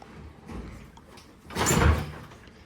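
A 1972 Norton motorcycle is kick-started: a single heavy thump lands midway and follows a faint earlier knock, with no engine catching.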